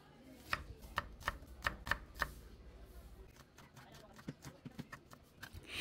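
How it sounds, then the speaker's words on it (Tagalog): Garlic and a medium onion are chopped on a board with a knife: a run of evenly spaced, sharp thuds up close, then quicker, lighter cuts. "hiwain lang natin ng maliliit ang 3 garlic at isang 1 medium size ng onion"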